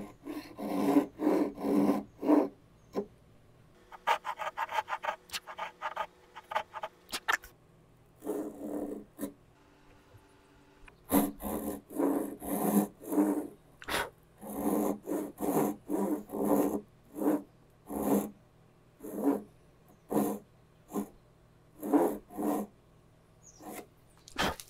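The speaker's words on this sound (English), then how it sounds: "Now that I've sawed these corners" A hand saw cuts wood corners for a cogged lap joint, with steady rhythmic back-and-forth strokes close up, a few short pauses between runs of strokes, and a dog barking briefly in the background.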